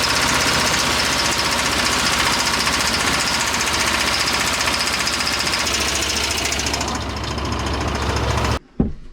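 An old 454 V8 motorhome engine roars steadily at close range, a loud, rough, continuous drone that cuts off abruptly near the end with a brief thump.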